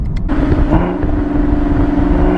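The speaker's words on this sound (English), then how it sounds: "when you turn on the track mode, obviously you're gonna get a lot stiffer steering. Suspension's going to get stiffer as well. Exhaust opens up." Chevrolet Camaro ZL1 with a supercharged LT4 V8 revving hard, its exhaust opened in track mode, a loud, steady, deep engine roar running throughout with a brief sharper blip at the start.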